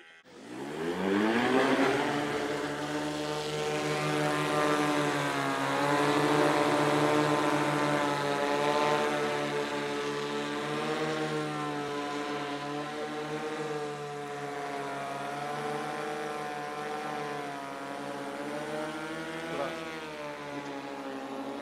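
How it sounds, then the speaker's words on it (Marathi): An agricultural multi-rotor drone spraying a sugarcane field whines steadily overhead, its high buzzing hum wavering slightly in pitch as it holds position nearby, with no talk. "ड्रोन मार्फत तुमच्या ऊसावर सध्या फवारणी सुरू आहे."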